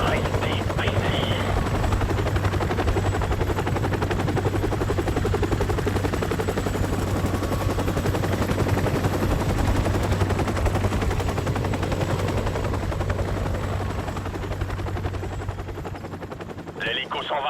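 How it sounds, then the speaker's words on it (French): A helicopter roars overhead in Call of Duty: Modern Warfare Remastered while bursts of machine-gun fire crackle almost throughout, loud and continuous, easing slightly near the end. "L'hélico s'en va, on y va."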